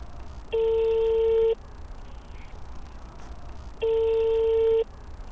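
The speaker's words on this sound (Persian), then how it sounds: "میخواهم به شهلا زنگ بزنم و بپرسم که همین 2800 است یا 280 سومون؟" A telephone line gives two long, steady electronic tones about a second each, separated by a pause, like a ringback on an outgoing call, over a faint background hiss.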